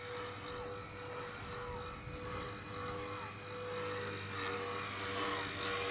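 Blade Eclipse 360 RC helicopter pirouetting in idle-up, a steady high-pitched rotor and motor whine with a faint pulsing rhythm that swells slightly as it spins.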